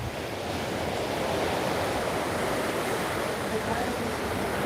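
Wind and surf rolling in off Waikiki beach make a steady, broad rush of noise with a constant low rumble from wind on the microphone, and no breaks.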